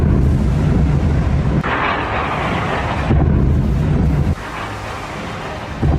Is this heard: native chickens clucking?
no